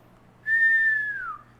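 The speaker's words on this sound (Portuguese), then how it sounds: "Vai sair o assobio." A person whistles through pursed lips: a single clear, steady tone of about a second that slides downward in pitch as it ends, alone in a quiet room.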